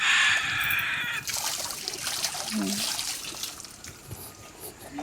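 Cold well water splashes and trickles during an outdoor bath, a loud pouring burst at first, then softer dribbling and splashes, with a brief murmur and distant bird calls.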